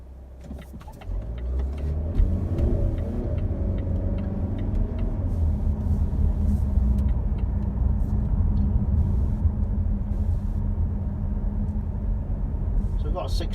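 A 2018 Volvo V90 D4 R-Design automatic cruises on the road with a steady low engine and tyre drone inside the cabin, while someone talks over it throughout.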